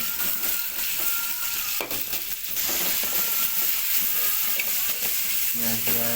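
Onions frying in a pan give off a loud, continuous sizzle and hiss that runs close and unbroken, with occasional stirring scrapes and a faint low hum beneath.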